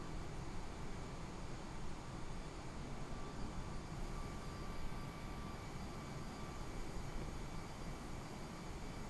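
Steady, unbroken engine drone of an airliner in flight in Microsoft Flight Simulator 2020, on a Scotland to Norway route, a constant loud broadband roar with no talk.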